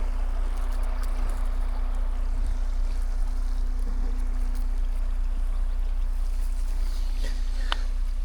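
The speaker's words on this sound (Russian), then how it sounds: "Да, ручей." A forest stream flows along a cycling route between Yakutsk and Magadan, a steady moderate rush of running water with a few faint clicks and knocks near the end, no voices.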